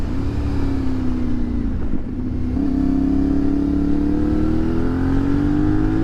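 A CF Moto Ibex 450 motorcycle accelerating along a twisty road, its engine a loud, steady drone that briefly dips, then climbs again in pitch through the gears, heard up close under rushing wind with no talk.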